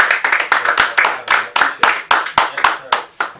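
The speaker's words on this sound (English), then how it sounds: "Hey, clap it up." A steady run of sharp hand claps, roughly four or five per second and loud and close, fills a Chicago-suburb radio studio with no talk over them.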